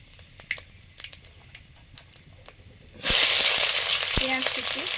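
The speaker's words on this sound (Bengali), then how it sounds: "এবারে ফোড়ন দেবো, সর্ষের তেল দিলাম, শুকনো লঙ্কা, 5 ফোড়ন" Dried red chillies, five-spice mix and bay leaf drop into hot mustard oil. A few soft taps and clicks give way to a sudden loud, sustained hiss of tempering close by.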